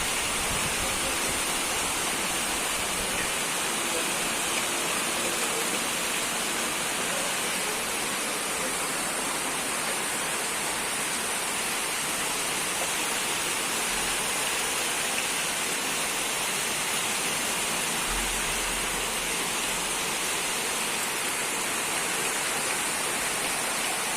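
Steady rain drumming on the tin roof of a house, a dense, even hiss of countless drops with no break, heard from indoors toward evening and with no voices over it.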